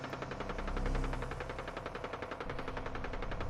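Rapid automatic gunfire from the video game Fallout 4 rattles in a fast, even stream of sharp shots, loud and continuous for several seconds.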